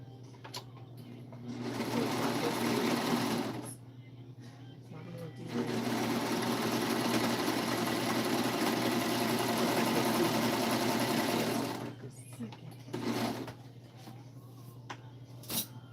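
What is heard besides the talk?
serger sewing machine running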